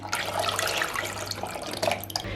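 Milk pouring into a pot while a Turkish milk pudding is made in a village kitchen, a steady continuous liquid splash with no talk over it.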